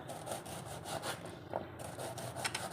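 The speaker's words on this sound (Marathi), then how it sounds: "आता व्यवस्थित असे आपण गोलाकार कापून घेणार आहोत" A knife slicing onions into rings, a continuous close rasping cut with regular rhythmic strokes roughly every few tenths of a second, fairly quiet with no talk.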